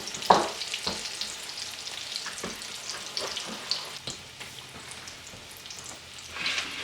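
Slices of fresh garden green tomatoes frying in a pan, a steady close sizzle with scattered pops and crackles throughout.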